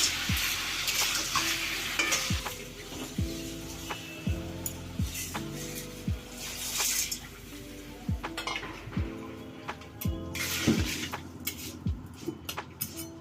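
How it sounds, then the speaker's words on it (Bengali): Sugar is stirred into papaya chutney in a pan: soft sizzling under repeated spoon knocks and scrapes on the pan, at an irregular pace, close and unaccompanied by voices. "দিয়ে দিলাম চিনি, একটু নাড়াচাড়া করব।"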